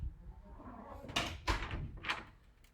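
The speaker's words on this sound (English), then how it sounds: "Let's see if the door's unlocked." An office door is unlatched and pushed open, giving a few soft clunks and a brushing swing over about a second, faint and nearby.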